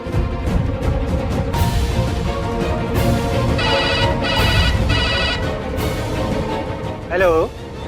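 A telephone rings in bursts of a bright trilling tone while a call is placed, heard over a steady bed of background music and noise in a Hindi TV drama scene.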